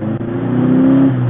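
An old Volkswagen with an 1800cc engine revving up, a loud, close, steady mechanical drone that rises in pitch and holds briefly.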